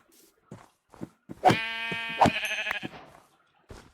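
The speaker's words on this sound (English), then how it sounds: "Oh, I found sheep." A sheep in the Minecraft video game bleats once in a drawn-out, wavering cry, close and clear, amid scattered soft clicks and footstep-like taps.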